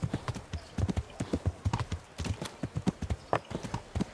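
Horse hooves galloping in the medieval video game Kingdom Come: Deliverance, a steady, close clip-clop rhythm of rapid hoof strikes running throughout, with an occasional faint snort mixed in.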